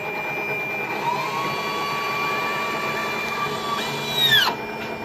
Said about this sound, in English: Now it's flattening the dough.